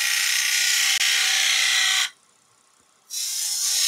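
Skew chisel taking a clean cut along the underside of a wooden Christmas ornament turning on a lathe, a loud steady hiss of cutting that stops abruptly for about a second and then resumes.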